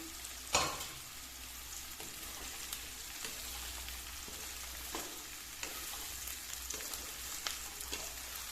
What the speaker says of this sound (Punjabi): ਇਹਨਾਂ ਨੂੰ ਹੁਣ ਆਪਾਂ ਸੇਕ ਲਵਾਵਾਂਗੇ ਦੋ ਤਿੰਨ ਮਿੰਟ ਆਪਾਂ ਪਕਾਵਾਂਗੇ ਇਹਨਾਂ ਨੂੰ